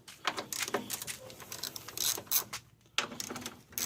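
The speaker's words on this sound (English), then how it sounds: "Loosen up the 2 bolts on top." On a 1992–1993 Honda Accord, a hand ratchet works bolts loose near the front bumper with rapid, close clicking that comes in short bursts and stops briefly before starting again.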